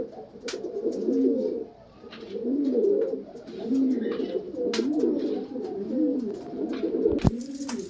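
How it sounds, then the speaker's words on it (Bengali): Short-size flying pigeons coo in repeated low, rolling phrases, several bouts in a row close by, with faint chirps and a sharp tap near the end. "একদম শর্ট সাইজের পায়রা"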